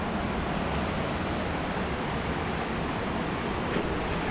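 A Bali waterfall roars as a steady, dense wash of broadband rushing water, constant and loud throughout with no pauses and no voices.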